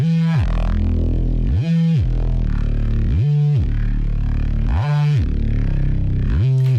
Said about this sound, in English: And the first sound is a reese bass.